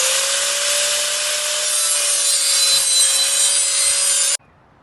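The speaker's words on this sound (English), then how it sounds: "we are going to start angle grinding" An angle grinder shapes a clamped wooden baseball bat into a sword, giving a loud, continuous abrasive grinding whine with a steady tone that cuts off abruptly near the end.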